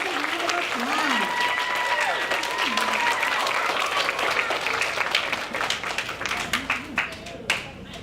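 Audience applause at a school DARE graduation ceremony in Irvine, California, sustained clapping from a seated crowd with voices speaking over it, tapering off toward the end.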